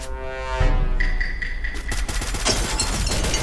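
Enemy gunfire in the shooter game Free Fire: after a tonal game cue, rapid automatic shots crackle in a dense, continuous burst that grows louder toward the end.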